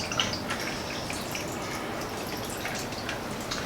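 A cucumber basil vodka gimlet is strained and poured over melting ice, a steady, soft trickle of liquid with faint dripping and the occasional small clink, close and continuous with no talk.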